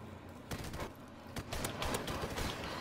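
Video-game gunfire from Call of Duty Modern Warfare rattles off in rapid, uneven bursts of overlapping shots that run continuously through the short stretch.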